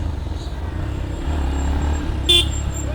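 A Yamaha FZS V4 motorcycle horn gives one short, clear toot near the end, over a low idling engine rumble and road noise.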